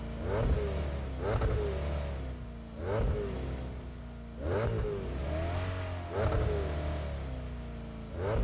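An abandoned vehicle's engine in PUBG Mobile revs repeatedly, rising in pitch in several bursts roughly every one and a half seconds, steady and close with no talk.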